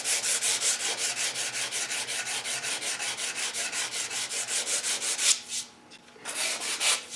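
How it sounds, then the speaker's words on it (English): Hand sanding a wooden Winchester Model 88 rifle stock on a bench: fast, even back-and-forth rasping strokes, close and steady, with a brief pause before the strokes resume. "just trying to get the broad areas sanded"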